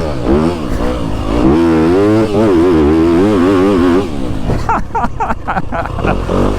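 A Yamaha YZ250FX dirt bike engine revs loud and close, the pitch climbing and falling in repeated throttle blips, then breaking into rougher, choppier bursts near the end.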